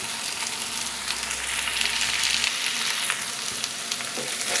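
Chili powder frying with bottle gourd curry in a pan: a steady, loud sizzle with occasional stirring scrapes, continuous and close with no talking.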